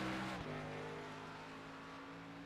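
A race car laps a road course in the iRacing simulator, its engine a steady mid-pitched drone after a brief shift or downshift, moderately loud and continuous without talk.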